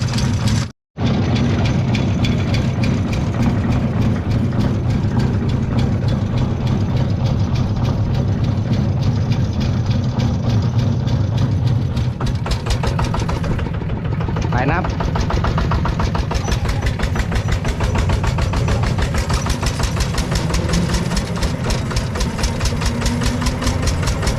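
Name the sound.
ZT 180 engine pulling away in second gear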